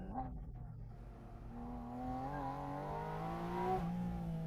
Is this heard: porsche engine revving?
yes